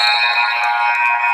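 At a women's college basketball game, the Clinton vs Paine College matchup, a gym buzzer blares loud and steady for over a second, a harsh sustained electronic drone with faint crowd noise beneath.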